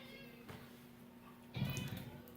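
A feral cat meows close by, a short clear call rising near the end over faint background hum.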